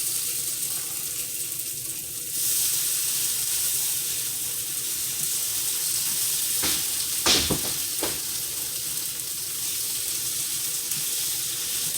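Meat sizzling on a deluxe electric grill and griddle for fajitas, a loud steady hiss that fills the whole stretch, with a few sharp clacks of a utensil near the middle and no talking.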